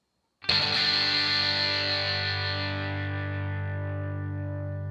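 A single sustained electric guitar chord through a Headrush pedalboard's graphic EQ, gritty and distorted with a harsh, biting 4K upper edge, ringing out and slowly fading.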